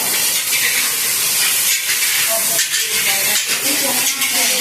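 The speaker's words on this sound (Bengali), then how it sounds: "একটু রসুন ফোড়ন দেওয়া হচ্ছে, পেঁয়াজ টমেটোগুলো দিয়ে দেওয়া হলো" Garlic, onions and tomatoes frying in a wok, a loud dense hissing sizzle that stays constant throughout, close up, with faint voices under it.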